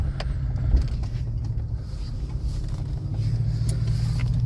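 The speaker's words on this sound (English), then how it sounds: "Oh, 6 o'clock traffic in East Lansing" Steady low engine rumble from inside a 1977 Lincoln driving through 6 o'clock traffic in East Lansing, constant road drone with faint occasional clicks and no talking.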